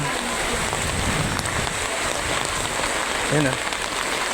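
Typhoon floodwater flowing through a flooded barangay road, a steady broadband wash of rushing water heard up close, with a brief voice near the end.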